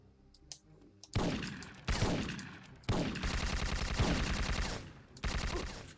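Gunfire in the Syphon Filter 3 video game: after a few light clicks, several sharp heavy blasts ring out with rapid rattling fire between them, loud and close with brief decays, no talk over it.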